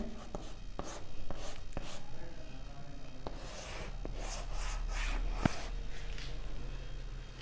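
A pen scratches across paper in short strokes and taps, close and quiet, with soft pauses between bursts of writing and no talk.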